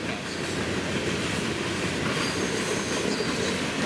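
A BNSF manifest freight train led by a GEVO locomotive rolls past close by, its steady heavy rumble of wheels and cars filling the air with faint flange squeal and no pause.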